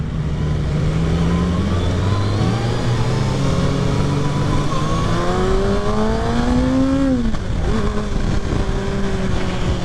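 A 2023 Kawasaki Ninja ZX6R 600 sport bike on the road, its engine a loud, steady, close drone that climbs in pitch through the revs, dips briefly as if shifting, then pulls up again.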